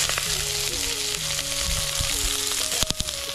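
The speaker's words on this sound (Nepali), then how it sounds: "प्याज फुराउनु पर्छ एकछिन" Onions sizzling in hot oil in a village kitchen, a steady bright frying hiss throughout with a few sharp clicks near the end, no voices.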